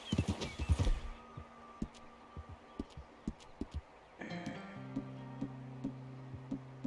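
Hoofbeats of a horse in Red Dead Redemption 2, a steady clip-clop rhythm at moderate loudness, with a brief whinny near the start and a droning tonal layer joining partway through.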